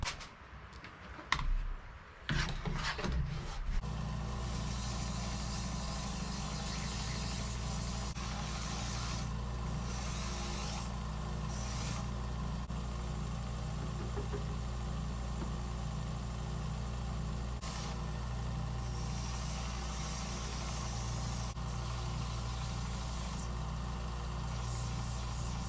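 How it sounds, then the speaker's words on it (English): After a few brief clatters, a belt sander hums loudly and steadily as it cleans up cut pieces of a hand-forged Damascus steel knife billet, with no speech. "It is time to clean it up on the belt sander."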